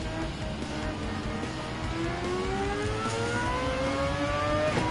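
A rotary-engined race car revving hard and climbing in pitch with a high, buzzing rotary whine, loud and continuous, in Gran Turismo 7 at the Dragon Trail circuit.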